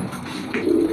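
A pet pigeon coos softly close by, giving a brief low murmuring call within a second, with no talking.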